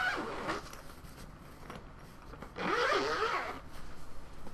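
Zipper on a Cecilio CVN-200 violin case being pulled open, a few short raspy runs followed by one longer, louder zip, close up with no talk.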